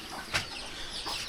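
Hens on an organic poultry farm resting in their shed at midday, a few faint clucks and soft calls rising from a low, constant background hiss, distant and quiet.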